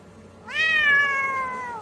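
A cat shut in a cage lets out one long, drawn-out meow, loud and close, after a moment of near silence.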